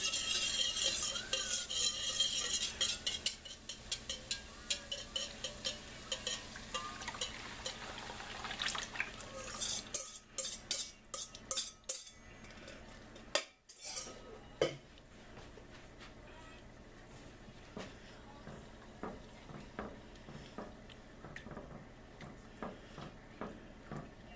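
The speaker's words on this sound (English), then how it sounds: "Now I'm going to turn my heat down to low and stir in my milk and soup mixture." A spoon stirs a milk and soup mixture in a pot over low heat, with quiet repeated scraping and clinking against the metal, soft liquid swishing, and a few brief pauses between strokes.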